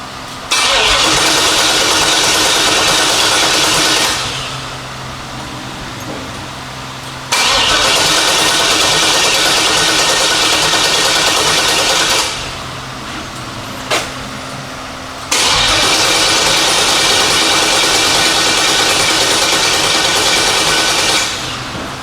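An LS-swapped El Camino engine cranks and roars to life three times, each loud run holding steadily for several seconds before dropping to a quieter churn, with a short clank between attempts.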